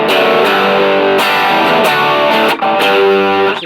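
An electric guitar plays through the distortion channel of a Lekato Pogolab mini amp, with loud, saturated strummed chords in a few rhythmic bursts and brief gaps, with no voice over it.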